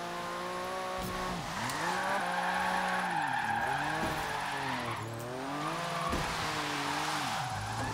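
A Porsche 959 in the Forza racing game slides through a drift, engine revving up and down in repeated swells while tires squeal and skid continuously, loud and close, no talking.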